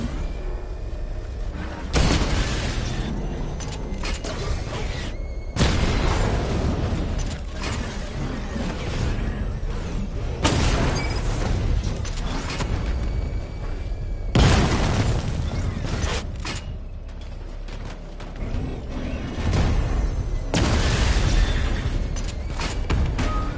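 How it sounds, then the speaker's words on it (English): Missile barrage explosions from the Batman: Arkham Knight video game boom out in repeated heavy bursts every few seconds, loud and close, with mechanical clanks and rumbling between the blasts. "Charge up missile barrage to level 2 and destroy 4 active targets to complete diagnostic test"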